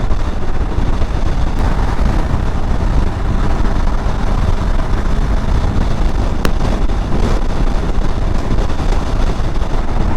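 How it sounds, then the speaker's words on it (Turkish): Heavy wind buffets the microphone throughout a KTM 390 Adventure motorcycle ride, a loud, constant roar with engine and road noise mixed in and no talking. "Dehşet rüzgar var burada."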